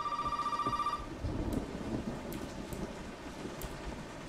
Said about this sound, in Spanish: Pero alguien llama al teléfono.